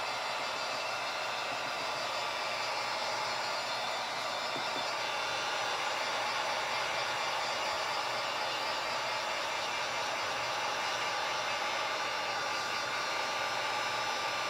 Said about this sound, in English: put it on a high setting, and we're just gonna hit that plastic till it starts to melt